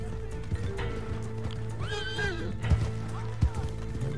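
A horse whinnies loudly in the middle over rhythmic hoofbeats and heavy thuds, with sound effects from Red Dead Redemption Online and a voice in the background.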